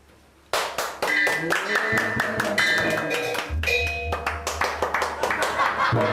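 A group of people clap their hands at a neighborhood gathering, sharp bursts of close applause with taps, rising and fading in waves amid light laughter.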